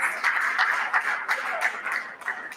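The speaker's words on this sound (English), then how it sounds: "These are round of applause for Mr." Audience round of applause at a small business workshop for a panelist, a steady patter of many hands clapping at moderate distance, fairly soft and continuous.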